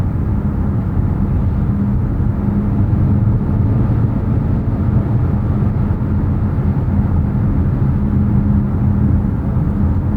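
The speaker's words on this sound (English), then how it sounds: "I would say it is a little noisier at 65 miles an hour. A little bit worse road noise" Steady low road and tire rumble fills the cabin of a Mazda CX-50 cruising at 65 mph, a constant droning hum with no breaks and no talking.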